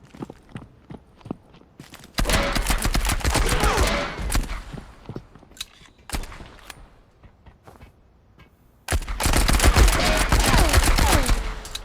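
Bursts of automatic gunfire with heavy recoil in the WWII-weapons space shooter Marauders, loud rapid volleys from about two seconds in and again near the end, with sparse single shots and footsteps between.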